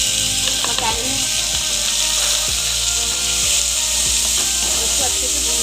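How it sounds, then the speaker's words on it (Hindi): Finely chopped onions fry in spice masala for bhindi, a loud, steady sizzle right up close, with the spoon scraping and stirring against the pan now and then. "प्याज का कलर जब तक चेंज नहीं होता इसको मैं फ्राई कर लूँगी प्याज को।"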